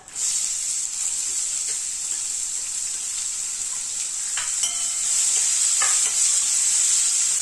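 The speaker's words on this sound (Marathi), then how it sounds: "कांदा छान परतून घ्यायचा आहे" Steady loud sizzling of onion frying in hot oil, a constant bright hiss with occasional scrapes of a spoon stirring, close up and uninterrupted.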